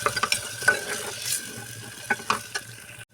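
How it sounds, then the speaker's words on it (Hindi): Rice sizzling and frying in hot ghee inside a pressure cooker, a steady crackling hiss broken by several sharp scraping clicks of stirring, close and moderately loud, with no talking. "घी गर्म हो चुका है, अब मैं इसमें चावल डाल"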